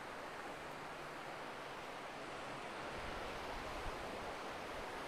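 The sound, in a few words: sea waves on the beach at Side Kumköy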